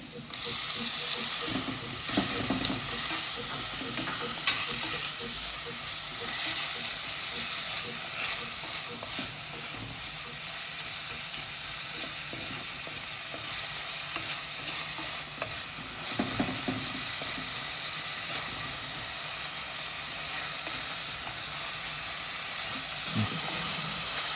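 Tomatoes and onions fry in a pan for fish curry, a continuous hissing sizzle broken by repeated scraping and stirring strokes, steady and fairly close throughout.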